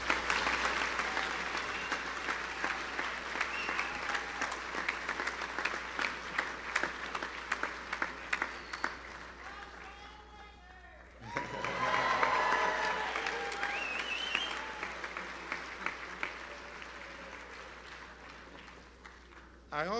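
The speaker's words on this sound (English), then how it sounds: "Let's give one more round of applause to the linemen as they go to be seated." A seated audience at an athletics announcement event applauds the linemen with a long round of clapping that holds for about ten seconds. It fades briefly, then a second swell of clapping comes in with people talking and cheering.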